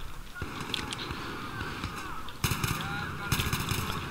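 Gunfire in the video game Battlefield 3: a few sharp shots around the middle and again near the end, set against steady game background noise.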